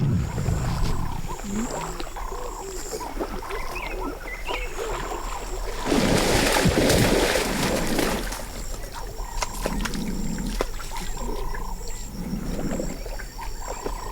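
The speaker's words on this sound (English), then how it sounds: "the lionesses, when they cross water, seem to hiss and snarl at it" Lionesses growl and snarl in low rumbling bursts while crossing water in Moremi, amid splashing and outdoor background noise, with a louder, noisier stretch in the middle.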